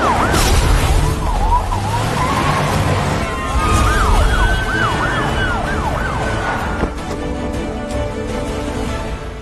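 Ambulance siren wailing loudly and continuously in a rising and falling pattern, heard through steady traffic and vehicle noise, with the wail sweeping repeatedly in the middle stretch.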